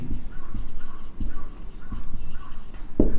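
Marker or chalk writing a math solution on a board, rhythmic scratchy strokes with short pauses between them, steady and close, with a faint voice in the background.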